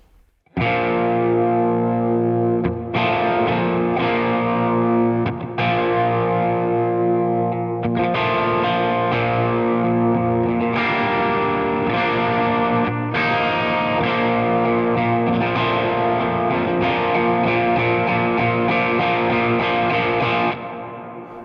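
Distorted electric guitar playing sustained power chords, washed in reverb and modulation, loud and continuous with brief pauses between phrases.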